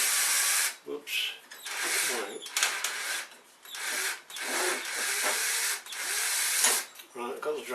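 A power drill bores into a workpiece during a CNC build, whirring in repeated bursts that rise and cut off as it bogs down and sticks, with a person talking briefly between runs.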